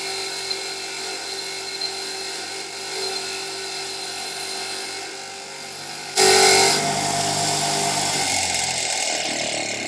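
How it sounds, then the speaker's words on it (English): Wire wheel on a bench grinder cleaning a rusty Citroën 2CV suspension part, a low motor hum that jumps into a loud, harsh grinding whine as the metal meets the wheel and keeps going steadily. "I like going over on the wire wheel on the bench grinder."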